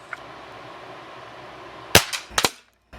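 A Crosman 362 .22 air rifle fires a pellet: a sharp crack followed moments later by two quick metallic impacts on the target, all after a quiet stretch of low room hiss.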